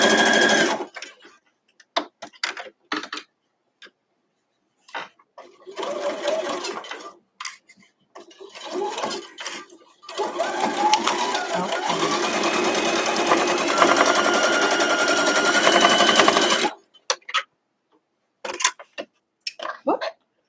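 A sewing machine stitches a scrap-friendly weathervane quilt block: short whirring bursts at first, then one long steady run of stitching, close and clear, followed by a few light clicks and handling sounds.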